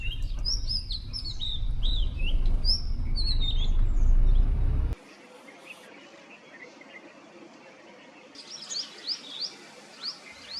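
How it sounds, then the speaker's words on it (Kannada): Birds chirp and tweet along a forest road in the morning, high repeated calls over a low rumbling background at first, then sparser calls in quiet open air with a burst of chirping near the end. "ಸೂರ್ಯ ಮೇಲೆ ಬಂದಿದ್ದ, ಹಕ್ಕಿಗಳ ಶಬ್ದಗಳು ಕೇಳಿಸ್ತಾಯಿತ್ತು."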